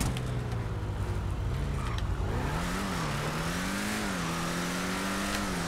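A Benny's-customized BF Weevil in GTA Online accelerates, its engine note climbing, dipping and climbing again through gear changes, loud and close, with no one talking.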